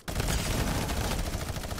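Dense, continuous rapid minigun fire in Fortnite roaring without a break, a loud sustained burst of automatic shots with game-like punchiness, no voices.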